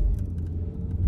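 Cars rush past on an interstate highway, a steady close roar of tyres and engines with low rumble throughout and no one speaking.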